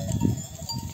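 Sheep in a highland pasture flock bleating, a short nearby cry mixed with other faint animal calls and a clinking bell.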